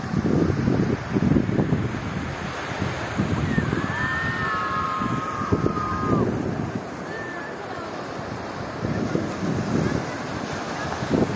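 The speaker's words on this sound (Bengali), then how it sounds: "কত সুন্দর ঢেউ।" Sea waves wash in steadily at Digha beach with a constant broad rush and gusts of wind over the microphone, while a voice and a whistle-like tone rise briefly above the surf.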